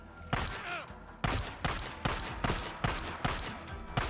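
Gunfire in the Days Gone game: a string of about nine sharp, loud shots at a steady, roughly even pace, each with a short ringing tail and no talking over them.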